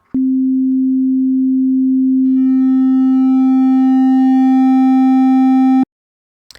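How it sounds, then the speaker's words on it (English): A steady pure sine tone holds for a couple of seconds, then turns buzzier and harsher as it is clipped more and more, distorting toward a square-like sound before cutting off abruptly. "as the sine wave is clipped more and becomes flattened more and more, you can hear different harmonics added"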